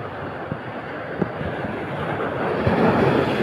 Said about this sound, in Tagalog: Ayun, hampas ng alon.